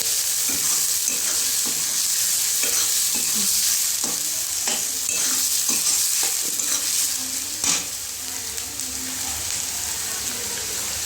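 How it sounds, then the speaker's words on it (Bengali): Onions frying in oil in a pan as they are stirred for a Bengali tilapia curry: a continuous bright sizzle broken by repeated scraping stir strokes, close and fairly loud, with no talking. "তো একটু নাড়াচাড়া করে নেব পেঁয়াজটাকে।"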